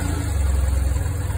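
BMW R1150GS motorcycle engine idling after starting, a steady low throbbing rumble with a close, even pulse and no talking; the cylinders have recently been balanced.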